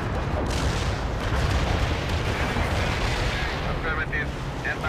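Napalm strike in the World in Conflict game, a Soviet assault mission to protect a convoy heading to Seattle: a loud, continuous rumble of explosions and fire roaring steadily throughout, dense low booms with no pause.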